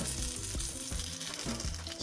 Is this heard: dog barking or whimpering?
no